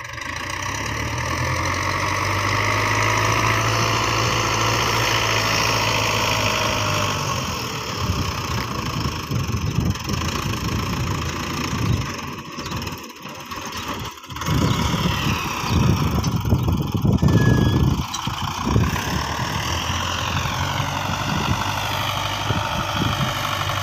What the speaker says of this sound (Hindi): वो ना सामने से ट्रैक्टर चल रहा है